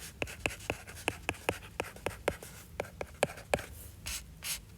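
A pen or pencil writes out a math function by hand, producing a quick series of short scratchy strokes close up, irregular taps and scrapes with small pauses between them.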